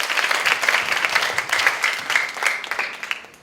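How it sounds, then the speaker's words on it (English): A group of children clap together at a book festival reading, a lively, uneven patter of hands with irregular peaks, moderately loud and close, with faint voices underneath. "Clap for yourself."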